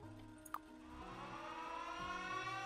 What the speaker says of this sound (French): Ah ben voilà, une sirène d'alarme.